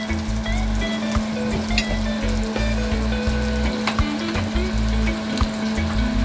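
Slices of Jamaican escovitch fish fry in hot oil with a steady, close sizzle and crackle, broken by occasional louder pops and spits, with no talking over it.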